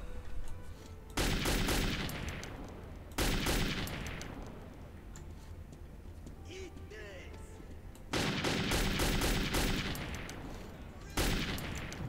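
Loud, close bursts of gunfire from Metro 2033 arrive in several separate volleys with quieter gaps between them, where faint talk and ambient sound carry on.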